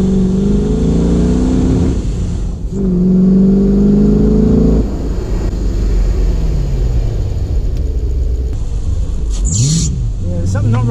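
A Porsche 986 Boxster track car with a swapped-in V8 engine accelerates with strong rising harmonic drones, easing off and surging again in a few pulls, loud and close, with a short higher whine near the end.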